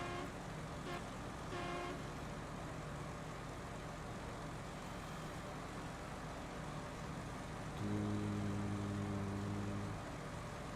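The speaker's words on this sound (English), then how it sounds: "Those quad horns working overtime." In the game SnowRunner, truck engine noise drones throughout, then loud quad air horns blast a multi-tone note for about two seconds near the end, after brief earlier toots.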